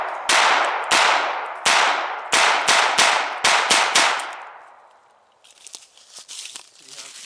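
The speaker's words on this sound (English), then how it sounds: "Pretty rapid firing, both eyes open, just pointing and aiming." A .22lr Sig P250 pistol fires at an outdoor range, with about ten sharp, close shots in quick, slightly uneven succession, each decaying briefly, followed by a lull and then faint rustling handling noise.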